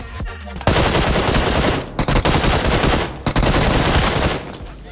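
Sustained automatic gunfire from the mobile game PUBG Mobile, loud and dense rapid bursts filling the soundscape, broken by two brief gaps, with no talking.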